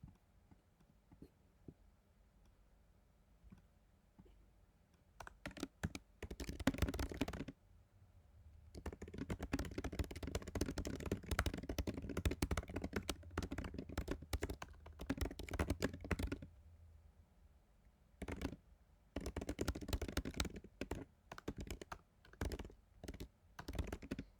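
Computer keyboard typing comes in fast bursts of quiet clicking keystrokes separated by pauses, close and fairly faint.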